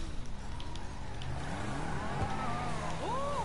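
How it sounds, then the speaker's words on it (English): A car engine revs and accelerates as the vehicle pulls out in a PS4 driving game, the motor rising and falling in pitch over a few seconds, fairly close. "I got a car in there. It's coming out right now."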